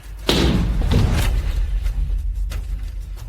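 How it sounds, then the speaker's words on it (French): A door is broken down in a dramatized scene: a sharp, loud slam and heavy thud up close, followed by a second impact and lingering rattling and shuffling. "Défoncez cette porte."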